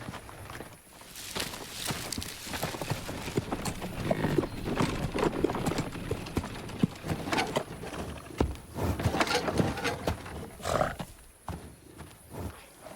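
Hooves of a horse pulling a cart clip-clop in an irregular walking rhythm, close and fairly quiet, with creaks and rustles mixed in.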